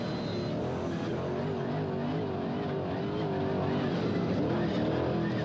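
A Trophy Truck Unlimited race truck at the Baja 1000 off-road race roars steadily close by, its engine note rising and falling as it drives, loud and continuous with no talk over it.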